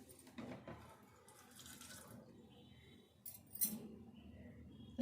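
Water pours softly into a grinder jar of chicken gravy masala with ginger and garlic, a faint trickling splash with a brief louder pour near the end.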